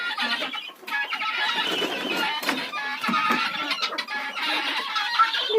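Chickens and guinea fowl crowd a coop with loud, continuous clucking and harsh shrieking calls, a dense overlapping din that never lets up.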